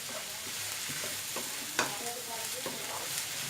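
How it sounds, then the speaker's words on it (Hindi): Bell pepper, green onion and other vegetables sizzle in a hot pan while being stirred. A constant frying hiss runs throughout, broken by several scraping strokes of the spatula and one sharper clack midway. "ये ग्रीन प्याज, तमाम वेजिटेबल ऐड करके इसको अच्छी तरह मिक्स कर लें"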